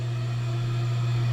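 An old Otis Series 1 hydraulic elevator starts up, a steady loud low motor hum with a strong fixed tone, constant and alone for about a second.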